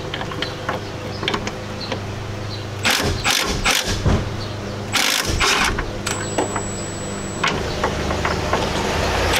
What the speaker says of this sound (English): you have two 15mm nuts that are holding the master to the booster, and you have two 14mm lines which you use a flat nut wrench on